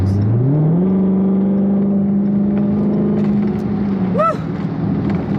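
A Dodge Hellcat engine revs up hard while driving, with a loud, rising growl that settles into a sustained roar and then drops away sharply near the end.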